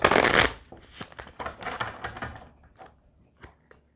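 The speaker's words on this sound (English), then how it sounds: "We're gonna just shuffle a little bit more and leave that in." A deck of tarot-style cards being shuffled by hand for a card reading, a loud riffle burst up close followed by several softer irregular flicks and taps that trail off.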